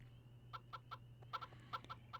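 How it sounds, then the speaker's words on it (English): Chickens in the game Harvest Moon 64 cluck in short repeated bursts, a quick series of quiet pecking clucks over a low hum, with no talking. "let's feed the chickens"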